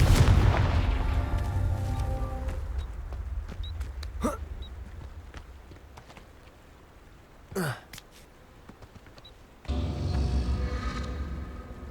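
In Hogwarts Legacy, a Confringo blasting spell bursts with a heavy explosive boom that decays into a rumbling tail, followed by sharp magical whooshes, brief crackles and a later surge of rumbling noise.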